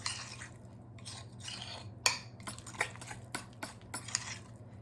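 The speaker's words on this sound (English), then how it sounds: "Mix it around until it's all combined. I'm just using a fork." A fork clinks and scrapes against a mug in quick irregular strokes, stirring thick chocolate brownie batter over a faint steady hum.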